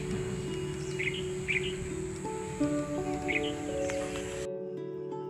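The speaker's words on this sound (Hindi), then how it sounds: "सुबह चिड़ियों की चहचहाहट से गूंज उठता है।" Morning birdsong: several birds chirp in short, repeated calls over a soft steady background hum, fairly close, ending abruptly near the end with no talk.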